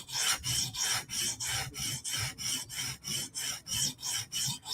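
A Hinderer knife blade drawn across a sharpening stone in light clean-up passes, about fourteen rhythmic rasping strokes in steady succession, close and clear with no talking.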